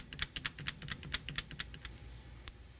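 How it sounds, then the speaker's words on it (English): Rapid series of about a dozen sharp plastic clicks from an ATM keypad being pressed, close and fairly quiet, with a brief pause before one final press. "Tap on the number 1 key."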